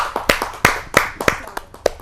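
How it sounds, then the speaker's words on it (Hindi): Claps ring out from an audience at a Hindi poetry gathering as a poet is welcomed to the stage, coming as a sparse, uneven run of sharp hand strikes rather than a dense roar, fairly close and without talk. "तो बुलाते हैं आप सबकी जोरदार तालियों से"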